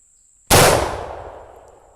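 A single loud, close rifle shot from an 1874 Shiloh Sharps firing a big .50 black-powder cartridge at a log, with a sharp blast and a long, fading rumble of echo behind it.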